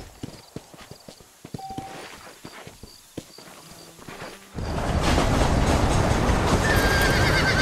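A horse in the Red Dead Redemption video game clip-clops at a walk with sharp, close hoofbeats, then breaks into a loud, continuous rushing gallop, with a brief whinny partway through.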